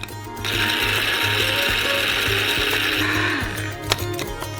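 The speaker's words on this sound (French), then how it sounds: "Et on balance au mixeur." A kitchen blender grinds dried pieces into powder for a giant Kinder milk slice, a steady loud whirring grind running for about three seconds before winding down with a brief clatter.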